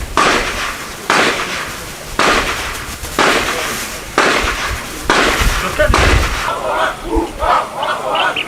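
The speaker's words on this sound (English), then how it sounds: "Let us listen to the firepower of the rifleman" Army riflemen fire rifles in a public demonstration, with about six sharp, loud volleys roughly a second apart, followed by scattered irregular shots. Crowd noise and shouting sit underneath the firing.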